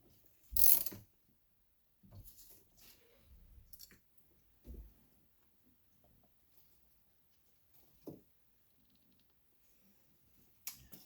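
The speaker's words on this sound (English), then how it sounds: "first thing I'm gonna be doing is removing my steering wheel. And this is just gonna be all these bolts essentially" A ratchet loosens the steering wheel bolts on a Honda EF Civic, giving short, scattered bursts of clicking separated by quiet pauses, close and fairly soft.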